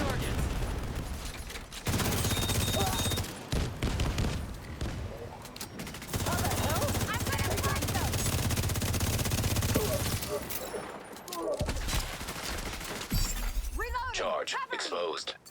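Dense video game gunfire with shattering impacts and bursts of automatic fire, loud and sustained, mixed with talk and game voices before a quieter stretch near the end.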